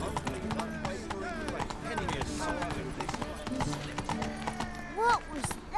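Horse hooves clip-clopping at a steady, quick pace in The Witcher 3, continuous under a voice and other game sounds, with a brief neigh near the end.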